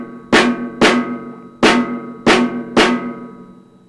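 Drum set beating out a jazz ensemble rhythm pattern: five sharp, resonant strikes with ringing decay, unevenly spaced, close and alone.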